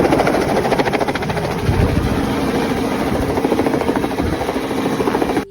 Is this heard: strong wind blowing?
no